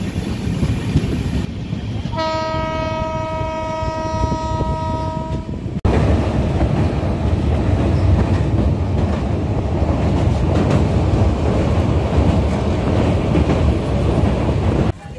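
A passenger train runs into a station. A long sustained horn blast sounds early on, then the steady rumble and clatter of the wheels on the rails continues loud and close until the end.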